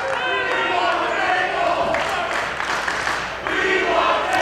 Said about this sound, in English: the crowd is chanting the We Want Tables